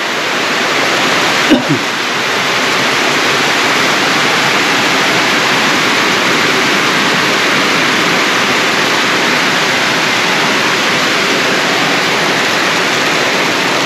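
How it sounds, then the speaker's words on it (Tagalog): Heavy rain pours down in a dense, steady hiss that fills the whole stretch, broken only by one brief knock near the start. "nag-umpisa na naman yung malakas na ulan"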